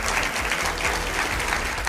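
Audience applause fills a studio debate hall, a dense steady clapping from a crowd, loud and continuous through the short stretch.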